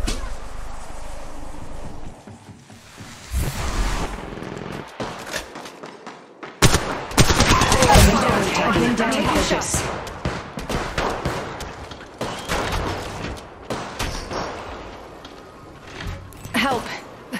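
Gunfire in the video game Apex Legends Mobile: sharp automatic weapon bursts and rapid shots, loud and close, coming in clusters with quieter gaps, mixed with in-game voice callouts.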